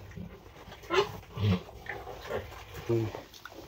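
Pigs fed a fermented corn porridge mixed with a little salt and molasses grunt and snuffle while eating, heard in bursts close by with some background voices.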